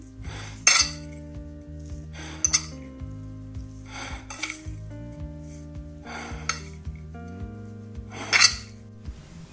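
Spices being mixed into a potato filling for aloo naan, with soft clinks and scrapes of a utensil against a bowl at irregular intervals, close and fairly quiet over a steady tonal background hum.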